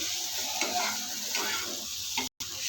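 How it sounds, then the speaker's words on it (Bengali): Grated beetroot fries in a pan with a constant near sizzle and soft stirring scrapes, ending in a brief break of silence, with no talking. "প্রায় ভাজা হয়ে গিয়েছে, আর 5 মিনিট ভাজা করলে ভাজা কমপ্লিট হয়ে যাবে।"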